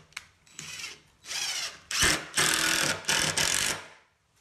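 A power drill drives screws into a wooden picnic table in several short whirring bursts, each spinning up and stopping, close and fairly quiet, with brief pauses between runs.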